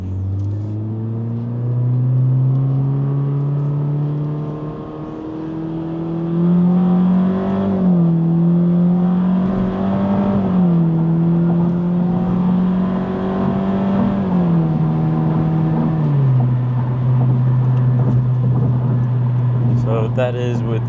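A 2022 Honda Civic Sport with the 2.0L engine pulls hard through paddle-shifted gears, its steady engine drone rising in pitch and then dropping at each upshift, several times in a row, loud and close from inside the cabin.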